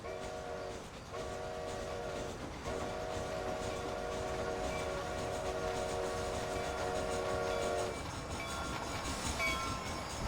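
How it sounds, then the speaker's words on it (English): A train in the Red Dead Redemption video game, heard as a sustained steam whistle with a brief pause before it blows again, over a steady rolling rumble of the train's carriages. "I hear a train coming"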